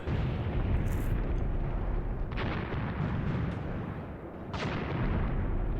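Artillery fire in the video game Graviteam Tactics: Mius Front, a continuous heavy rumble of distant shelling with two sharper blasts rising out of it, loud and sustained, with no voices.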